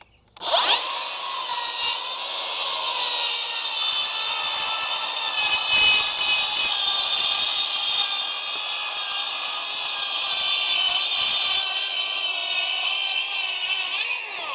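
A Makita circular saw fitted with a Milwaukee blade cuts wood in one loud, continuous, high-pitched whine that runs steadily for about fourteen seconds, strained but unbroken, with no talk.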